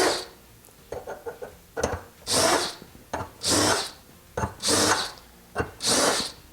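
Short bursts of a small power drill countersinking holes in new sailboat chainplates, whirring in repeated pulses, each lasting about half a second, with clicks and handling noise between them.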